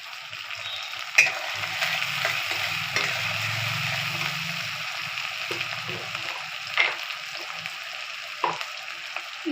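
Chopped tomato fries in a pan, a continuous close sizzle with a crackling hiss, punctuated by a few clinks of a spoon stirring against the pan.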